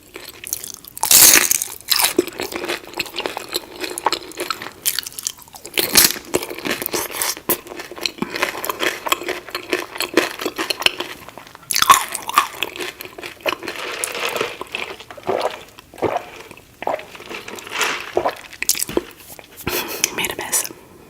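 Crackers and cheese are eaten close up, with loud crunchy bites followed by repeated chewing and crinkling as the food is handled, and soft whispered voices mixed in.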